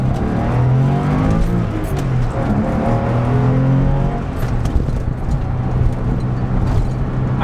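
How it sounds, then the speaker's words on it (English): A Porsche 996 911 accelerates hard in first gear, the flat-six engine note climbing steadily in pitch as revs rise, loud and close throughout with a dense, rasping tone. "here we go, a little bit of a first gear acceleration."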